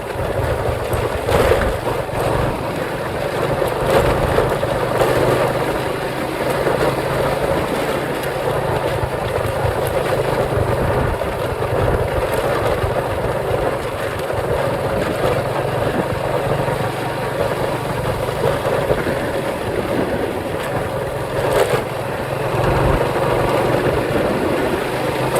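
A 12-year-old motorcycle engine runs steadily, giving a continuous low, rumbling drone with no break across the whole stretch and no talking.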